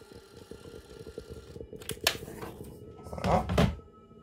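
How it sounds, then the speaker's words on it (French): A label printer prints a cable label for model railway wiring work, giving a steady mechanical whir, then a short buzzing feed and a sharp clack, followed by a louder burst of motor noise near the end. "J'imprime."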